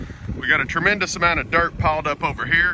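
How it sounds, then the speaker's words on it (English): Someone talks over blustery wind buffeting the microphone, a low rumble gusting beneath his voice throughout. "I apologize for the wind. It's very windy today"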